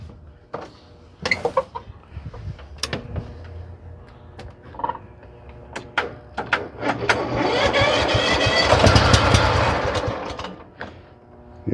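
A riding lawn mower on a freshly charged battery cranks over in a long, loud grinding burst after several clicks and knocks, a rooster crowing nearby in the background.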